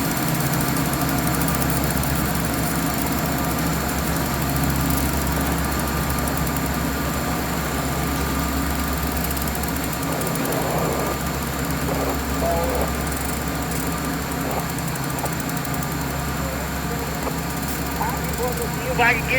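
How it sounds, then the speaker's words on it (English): Three new locomotives struggle up a hill in snow, their diesel engines drumming in a deep, steady rumble heard from a distance, with a person talking over them at times. "those first two engines are working pretty hard"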